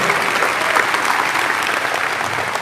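A church congregation applauds during a Catholic service, a steady, even wash of clapping from a large crowd that lasts throughout without any voices.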